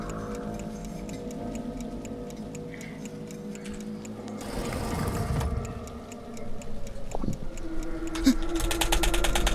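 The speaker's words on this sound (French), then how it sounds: "jamais vu un truc aussi compliqué pour ouvrir une porte" A complicated door-opening mechanism in a horror video game ticks and clanks with clock-like mechanical clicks, then grinds and whooshes louder midway before a metallic clunk, with no talk.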